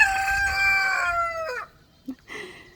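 A rooster in a homestead chicken house crows one long, loud, close call that trails off, followed by a couple of short clucks from the hens.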